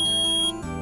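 A short electronic beep marks a call being recorded in the Phoenix Wright: Ace Attorney video game, a steady tone held for under a second against background game music, fairly quiet.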